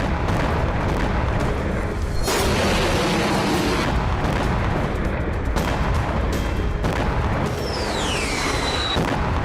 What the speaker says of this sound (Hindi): यहाँ देर रात बैक टू बैक धमाके होते रहे।